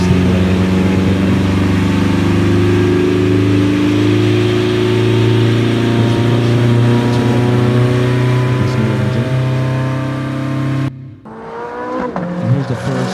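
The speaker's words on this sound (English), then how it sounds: "Here's our first chassis dyno test back in March of 2018" Corvette Stingray on a chassis dyno test, its engine holding a loud, sustained droning roar with a steady pitch that climbs slightly before the sound abruptly drops away near the end.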